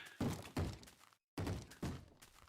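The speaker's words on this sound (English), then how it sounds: "zombie banging on a door" A Minecraft zombie bangs on a door: four dull, hollow thumps in two pairs with a short silent gap between them, fairly faint and alone.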